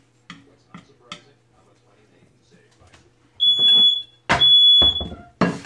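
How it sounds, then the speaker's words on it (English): Home smoke alarm sounding loud shrill beeps, two long piercing tones plus a start of a third in the second half, close, after quiet clicks and light handling noises, with a voice speaking in between. "That's my smoke alarm."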